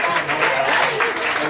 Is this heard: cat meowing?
no